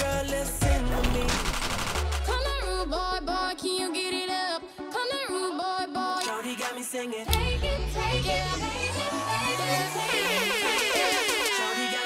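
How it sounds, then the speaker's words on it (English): Air horn blasts from the DJ Hero 2 video game, loud repeated honks layered over a pounding dance mix with scratching and rapid stuttering effects. "Oh, air horns."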